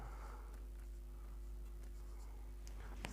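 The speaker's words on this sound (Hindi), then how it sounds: "तो अगर हम यहाँ लिखेंगे साइन थीटा" Chalk or marker strokes writing a trigonometry expression on a board, a quiet scratchy tapping with short strokes over a low steady hum, faint and close.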